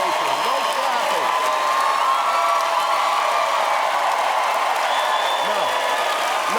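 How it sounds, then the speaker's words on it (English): A studio audience at a late-night talk show taping in Brooklyn cheers and whoops steadily, a dense, sustained crowd roar throughout with voices calling out over it. "Stop cheering for him."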